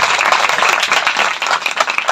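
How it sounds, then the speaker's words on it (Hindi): A church congregation applauds. Steady, dense clapping from many hands carries loud and close for a couple of seconds with no voices over it. "बहुत कम तालियां, बहुत कम।"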